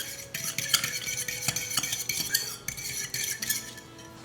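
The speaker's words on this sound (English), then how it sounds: "And we will give that a good mix." Bread dough being mixed with oil and salt in a bowl for homemade cinnamon swirl bread: close, irregular scraping and clinking of a utensil against the bowl, with no voices.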